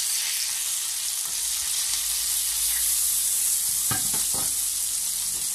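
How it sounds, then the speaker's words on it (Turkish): Onions frying in a pan for a egg dish with Kayseri sucuk, pastırma and kaşar, a steady broadband sizzle filling the whole stretch, close and continuous, with a few brief clicks of utensil contact near the end and no talk. "Soğanlar da iyi kavruldu vallahi."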